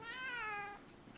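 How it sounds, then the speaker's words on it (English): A pet cat named Katarina gives a single clear meow lasting under a second, close and fairly loud, its pitch falling toward the end before near silence. "That's my cat, Katarina."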